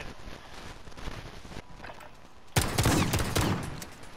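Gunfire in a Modern Warfare video game: faint scattered shots and background action, then a sudden loud burst of close shooting that fades over about a second.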